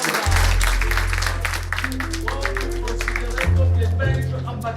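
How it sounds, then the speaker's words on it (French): At an art exhibition opening, clapping from the gathered guests sits under loud, sustained low music, with the hand claps textured and continuous behind the dominant musical tones. "Applaudissez-moi pour les"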